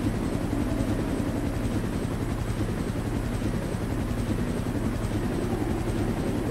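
A helicopter in the Resident Evil 1 video game keeps up a steady, loud rotor thump and engine drone throughout, with no speech.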